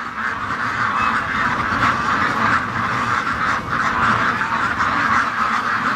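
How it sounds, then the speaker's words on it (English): A group of ducks quack continuously nearby as they approach, overlapping raspy calls forming a dense, steady chorus outdoors. "Ducks are coming all towards me"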